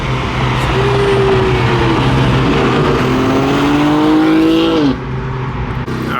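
A car with a newly fitted aftermarket exhaust revs loudly nearby, its engine note climbing and holding through several rising pulls before dropping off sharply, then idling low, with no talking.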